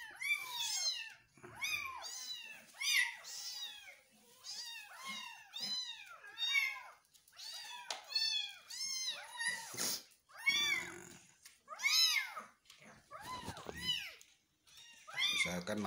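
Four hungry kittens meowing repeatedly, high thin rising-and-falling cries tumbling over one another in close, continuous bursts with short pauses.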